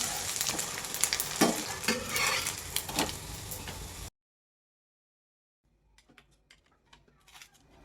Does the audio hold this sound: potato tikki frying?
yes